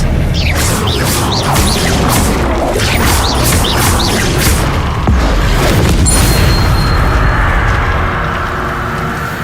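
A spell cast in Hogwarts Legacy during a magic duel, heard as a quick run of sharp whooshes and magical zaps and then a heavier boom and impact. A lingering shimmering hiss trails off after the blast.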